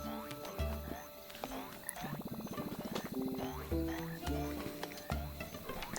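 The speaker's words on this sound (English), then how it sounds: "Check out those singing frogs." Frogs croak at night in a swamp in The Plucky Squire, a rhythmic, layered chorus of ratchety calls repeating in pulses across the whole stretch, loud and close, with no talking.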